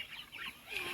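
Young turkeys on a farm give a brief burst of high clucking and chirping calls, fairly faint and close, without talk.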